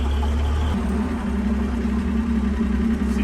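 An antique Plymouth car engine, freshly rebuilt, idles steadily and smoothly, a low, even rumble close by with no talking.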